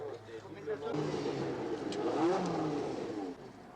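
A Ferrari T2 Formula One racing car engine revs up, rising and falling in pitch as it accelerates at a moderate distance, with someone narrating over it.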